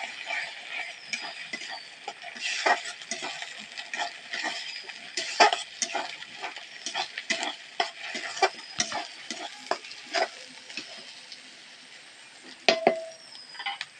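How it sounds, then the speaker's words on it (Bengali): A spoon stirs and scrapes a thick liver paste with lightly fried onions around a frying pan, giving repeated clattering scrapes and soft sizzling close by throughout. "এবার এর মধ্যে মেটার পেস্টটা দিয়ে দেবো একটু নাড়ি চাড়িয়ে নেবো"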